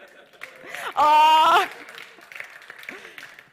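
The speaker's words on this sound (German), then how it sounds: "Jetzt sollte der Zürcher klatschen" A church audience breaks into a short burst of loud clapping lasting about half a second, framed by a speaker talking before and after.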